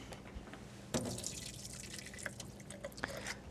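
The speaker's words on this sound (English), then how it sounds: "So just drain off the water." Water drains off canned bamboo shoots into a sink, a loud splash at the start followed by irregular trickling and dripping, near and fairly quiet, with no voices.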